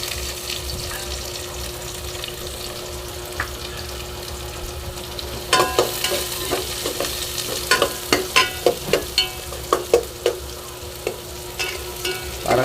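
Garlic and onion sautéing in oil in a cooking pot, a steady low sizzle with a run of sharp clinks and scrapes from stirring in the second half, close and without talk.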